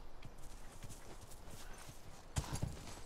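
Horse hooves clip-clop in The Last of Us Remastered, a scattered run of soft thuds and knocks that ends in a louder cluster of close hoofbeats near the end.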